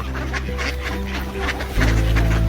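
Ducks quacking while being fed in an Oslo park, a few close quacks over a steady low rumble that grows louder near the end.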